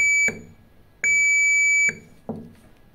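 Sharp electronic beeps from a multimeter on continuity mode while a motorcycle CDI unit is tested, three loud sustained tones with short breaks and a fourth cut off at the end, up close with no talk.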